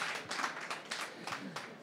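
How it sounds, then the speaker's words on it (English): A small audience at a book launch event claps in a brief, quiet round of applause, with scattered individual claps. "I think a big round of applause for her."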